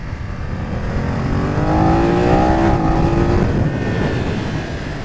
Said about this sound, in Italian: volevo farvi sentire il motore e soprattutto il quick shifter